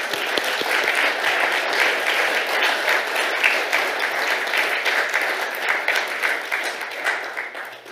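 Audience at a partnership signing ceremony in Kenya applauding, a dense, sustained clatter of many hands close by, tapering slightly at the end.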